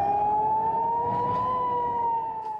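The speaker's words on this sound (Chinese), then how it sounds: "以色列台拉维夫周遭空袭警报不断" An air raid siren sounds around Tel Aviv, Israel: a single loud, sustained wailing tone that rises slowly in pitch and holds steady over a low background rumble, with no voices.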